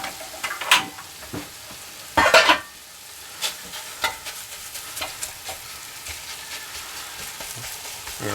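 Homemade chorizo fries with softened onions in a pan, a low sizzle broken by scraping stirs and sharp clattering bursts, with no talk.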